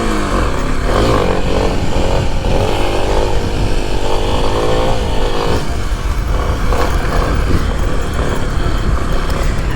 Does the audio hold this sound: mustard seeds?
no